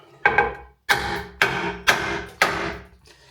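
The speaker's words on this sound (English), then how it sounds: "I think it may be time to just apply a little bit of hammer." A hammer strikes the basin of an undermount bathroom sink fixed beneath a stone countertop, to break it out for removal; five sharp, ringing blows spaced about half a second apart, close and loud.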